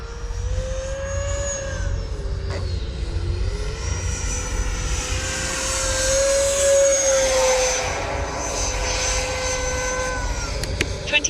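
A Freewing F-22 90mm electric ducted-fan RC jet flies inverted at high angle of attack, its whine sweeping up and down in pitch as it passes nearby, loud and steady with a rumbling low end.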